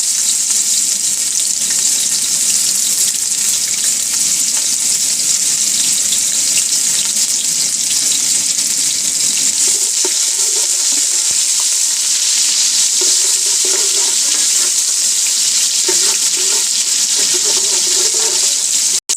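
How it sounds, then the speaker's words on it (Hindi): Onions fry in about a cup of hot oil, a loud, continuous sizzling crackle close by that stays dense and steady throughout, with a few faint clinks toward the end. "ये देखिए प्याज अच्छी तरह फ्राई हो गई है।"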